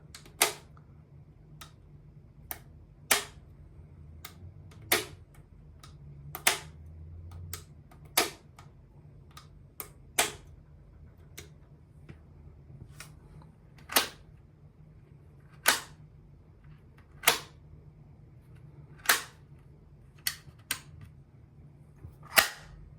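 An automatic transfer switch (ATS) being operated by hand gives sharp, isolated mechanical clicks at irregular intervals, roughly a dozen and a half over the span, standing out clearly against a quiet low hum with no talking.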